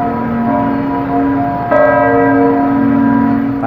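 Church bells ring loudly and close, one sustained, layered metallic tone with a fresh strike about halfway through renewing the ringing chord, with no voices.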